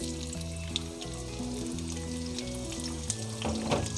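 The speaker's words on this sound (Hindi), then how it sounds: "हाफ़ कप ऑयल गरम करेंगे, इसमें गरम मसाला डालेंगे, इसके अंदर हम प्याज डालेंगे।" Onion and garam masala fry in half a cup of hot oil for chanay ki daal piaz, a steady sizzle running throughout beneath prominent melodic background music.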